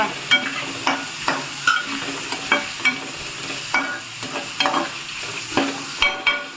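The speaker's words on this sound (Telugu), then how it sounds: "ఇప్పుడు టమాటా వేసుకుందాం" Tomatoes frying in a pan for a Telugu-style amaranth leaf fry give a steady close sizzle, punctuated by regular scraping stirs of a spoon roughly every half second.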